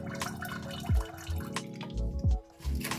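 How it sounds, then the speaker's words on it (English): Vinegar squirted into a kettle during descaling gives quiet liquid drips and splashy gurgles, with two heavier plops among a soft running trickle, close by and faint. "Then just add another squirt of vinegar,"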